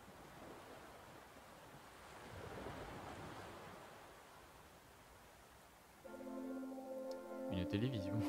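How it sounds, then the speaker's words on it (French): Ocean waves in the video game Anodyne 2 wash in a low, steady surf that swells and eases, with faint wind-like hiss, before tonal game sounds come in near the end. "Dans le silence, le fracas des vagues."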